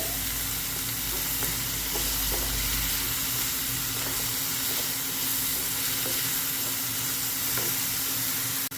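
Pork curry sizzling hard in a pan while being stirred, a loud, dense, continuous frying hiss with occasional scraping knocks, close up and uninterrupted by any voice.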